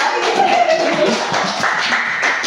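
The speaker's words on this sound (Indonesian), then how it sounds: "Tepuk tangan." Children clapping their hands in an elementary school classroom, a steady patter of many small claps close by, after a counting game naming body parts.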